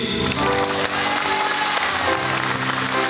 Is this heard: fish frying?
no